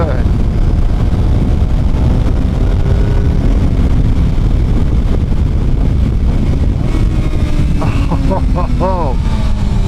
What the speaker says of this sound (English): the throttle response on blip downshifts is so good